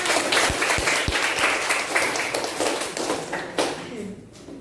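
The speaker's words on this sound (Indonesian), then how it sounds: "terima kasih tepuk tangan" Classroom students clap together briefly, a burst of mixed claps with a few sharp taps, fading out as a voice begins speaking.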